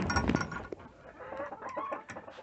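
Homestead hens cluck softly and intermittently nearby, a quiet scatter of low calls with no talking.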